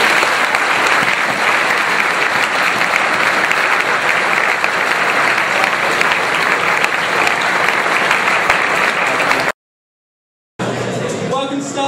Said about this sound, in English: a final round of applause to the Upper Six for a fantastic assembly